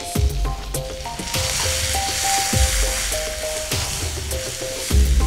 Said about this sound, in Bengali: আলুটা নুন হলুদ দিয়ে ভালো করে মিশিয়ে একটু ভেজে নেব।